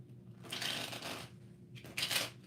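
A deck of tarot cards is shuffled twice, each a soft riffling burst of papery flutter, close and quiet, separated by a short pause.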